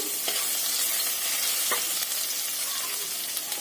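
Asafoetida, curry leaves and ginger-garlic paste sizzle steadily in hot oil while being stirred, a continuous close crackling hiss with a few sharper spatters and no voices.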